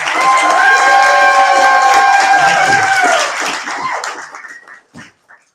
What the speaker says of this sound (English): So just a huge round of applause to both of them for putting this together.